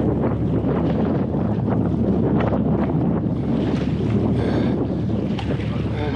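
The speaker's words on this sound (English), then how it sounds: "It's actually much more of a headwind than I'd anticipated it would be." A strong headwind roars and buffets steadily while paddling in the Arctic barren grounds on the way to the Arctic Ocean, loud and close with water sloshing faintly beneath the gusts.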